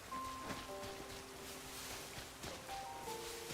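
Rain dripping and falling outside, a soft steady patter heard faintly at a distance with a low continuous wash and no talking.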